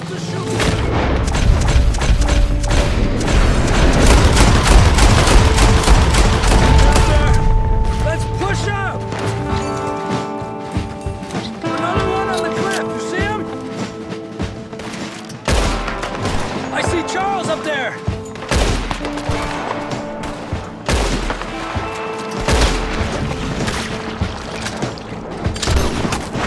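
Heavy gunfire in Red Dead Redemption 2: dense, loud booms and rapid bursts of shots pile up over one another, easing slightly midway and then returning, with voices mixed in.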